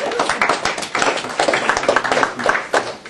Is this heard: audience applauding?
yes